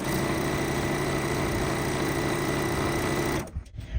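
A sewing machine runs steadily, stitching quilt fabric pieces into quarter square triangle blocks, a loud continuous close mechanical whir that cuts off near the end, followed by faint handling noises.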